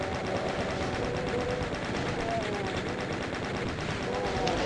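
Rapid chaingun fire in DOOM on the Hell Chapel map, a dense continuous stream of gunshots with game effects layered over it, steady and loud throughout.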